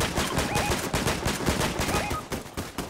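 Rapid bursts of gunfire in a first-person shooter video game, dense and loud throughout, with overlapping shots forming sustained volleys.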